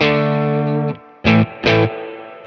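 A sustained electric guitar chord from a G&L ASAT Classic rings with slightly gritty overdrive at the edge of breakup, then two short punchy strums follow.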